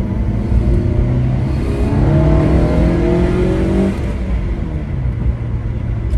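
Steady car engine drone with a low rumble and rising intake whoosh from the front, heard outside, close and continuous, no voices.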